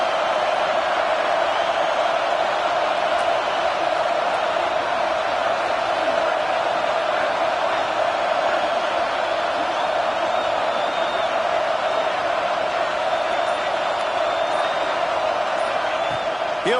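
A football stadium crowd at an Alabama versus Texas A&M game roars on fourth down. The dense, loud din holds steady the whole way through with no breaks.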